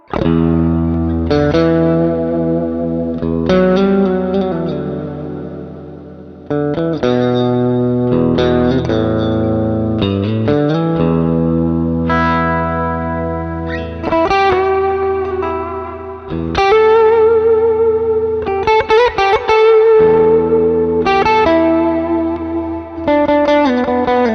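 Distorted electric guitar through a Neural DSP Archetype: Cory Wong amp simulator preset plays chugging riffs and sustained chords, loud and saturated, with short pauses between phrases.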